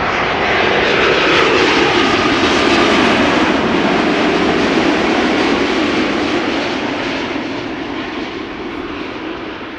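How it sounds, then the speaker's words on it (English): An American Airlines jet arriving from Philadelphia roars loud and steady on its approach to landing at Amsterdam Schiphol Airport, with the broad engine noise easing slightly toward the end. "American Airlines coming in from Philly."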